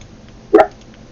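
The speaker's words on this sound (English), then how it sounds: "I heard somebody's dog barking." A shepherd dog gives a single short bark at a distance, a brief burst that stands out against quiet background noise.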